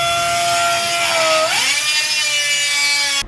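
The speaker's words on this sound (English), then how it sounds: "All right, the infamous grinder is back." Angle grinder cutting through a titanium bolt on a motorcycle, a steady loud high-pitched whine that drops in pitch midway as the disc bites under load, then holds a lower tone until it stops abruptly.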